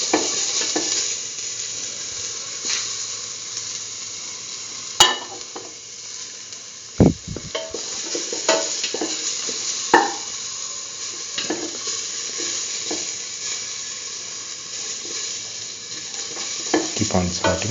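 Ginger, garlic and salt sauté in a hot pan with a steady close sizzle, broken by frequent scrapes and knocks of a stirring spoon against the pan.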